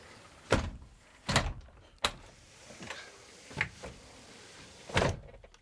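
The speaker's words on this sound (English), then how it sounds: "So first of all, this door can slide either way." A boat cabin's sliding door on a Quarken 27 Cabin rolls and thuds several times, close by, with short pauses between each slide and knock.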